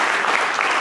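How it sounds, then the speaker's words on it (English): An audience bursts into a dense round of clapping, a brief, even wash of applause from a crowd in a room. "Give Nicole a round of applause"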